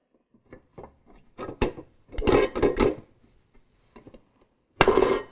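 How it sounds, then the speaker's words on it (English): A new metal bowl is fitted onto a Hobart HL6 stand mixer, giving several short clanks and scrapes, then a louder rattling grind as it seats, and one final clunk. "We're gonna put on the new bowl."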